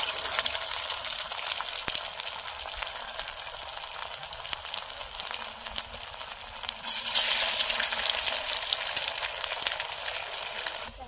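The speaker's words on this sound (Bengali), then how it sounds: "এবার মুইঠাগুলো ভেজে নেব।" Soybean muithya dumplings fry in hot oil in a home kitchen, giving a steady, dense sizzle that runs the whole time and swells a little louder partway through, with no voices.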